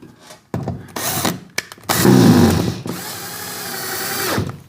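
A power drill drives a screw into a curtain track bracket fixed to a plasterboard ceiling, in several short whirring bursts that build to one longer, louder run before stopping.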